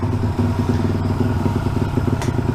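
A motorcycle engine runs just after a carburetor swap, close and loud, with a steady throbbing idle and light mechanical clatter for the whole stretch.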